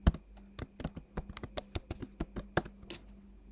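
Someone types a password on a computer keyboard in a steady run of about fifteen crisp, close key taps over a few seconds, with no talking.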